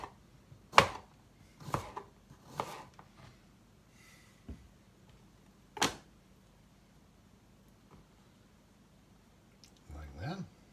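A knife chops through cucumber on a board for Danish smørrebrød open-faced sandwiches, giving a handful of sharp, separate knocks spaced about a second apart, with quieter handling noises in between and a soft rustle at the end.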